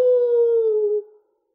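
A single clear wolf howl in a Catalan children's story, a voiced, steady tone held for about a second before sliding down and cutting off into silence.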